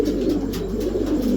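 A pigeon from a breeding pair gives low, steady throaty cooing close up, continuous and soft over a faint background hum.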